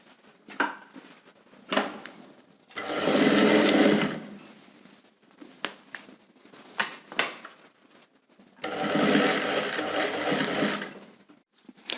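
A sewing machine runs in two sustained bursts while stitching the side seam of a blouse, separated by a quieter stretch of short clicks and handling noises.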